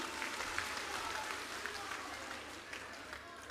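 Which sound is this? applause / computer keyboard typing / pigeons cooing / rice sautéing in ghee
applause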